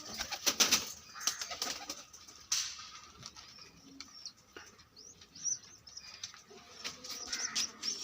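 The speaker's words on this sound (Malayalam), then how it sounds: "ഇതാണ് വെള്ളപ്രാവ്." A white pigeon coos softly at close range, low murmuring calls repeating through a steady outdoor backdrop of chirps from other birds.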